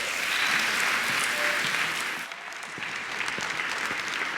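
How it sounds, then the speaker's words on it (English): An award-ceremony audience applauds winners with dense, sustained clapping that dips briefly in the middle, then swells again. "let's get a round of applause for those winners"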